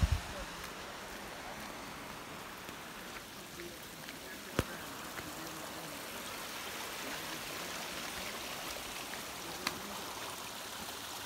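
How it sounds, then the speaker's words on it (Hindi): A mountain stream in Uttarakhand, swollen after several days of heavy rain, rushes with a constant broadband wash of flowing water, fairly distant and even, with a couple of faint knocks and no talk. "आप देख सकते हैं गधेरे में कितना पानी हो चुका है।"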